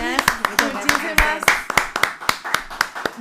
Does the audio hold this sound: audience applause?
yes